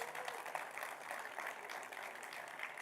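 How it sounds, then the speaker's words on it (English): Steady applause from an awards-ceremony audience, a dense even wash of many hands clapping throughout, with no voices standing out. "can we please have a big round of applause for everyone who took part tonight"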